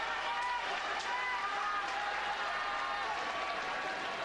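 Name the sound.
sumo crowd applauding in the Kokugikan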